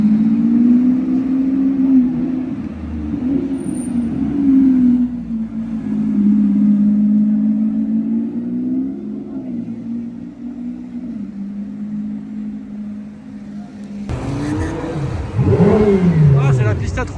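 A Lamborghini Revuelto's V12 engine hums and revs close by on the streets of Monaco, a sustained droning tone that rises and falls, then surges sharply in a final loud rev, with people talking over it.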